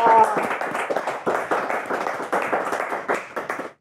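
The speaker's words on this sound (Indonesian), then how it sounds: "Ah, tepuk tangan dulu dong." A studio audience on an Indonesian talk show about integrity building claps on cue, a full, lively patter of many hands that runs for several seconds and stops abruptly, with some voices mixed in.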